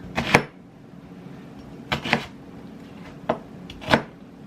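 A knife cuts a big peeled onion into chunks on a board, a few separate crunchy thuds spaced irregularly, close and clear without any voices.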